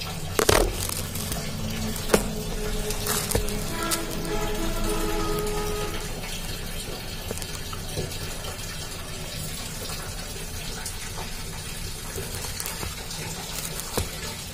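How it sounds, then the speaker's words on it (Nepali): Water pouring into the tub of an LG top-loading washing machine, a continuous splashing rush with a few knocks and clicks early on, steady and close, no talking. "पानी झरिरहेछ, खसिरहेछ"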